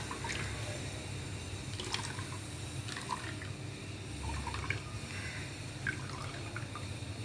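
Coconut milk strained through a filter into a vessel, giving soft intermittent drips and trickles of liquid over a low steady background hum, fairly quiet and close, with no talking.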